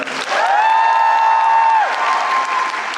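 Loud applause and cheering from a theater audience at the curtain call of the musical Notre-Dame de Paris in Korea, with a long sustained shout rising over dense, close clapping.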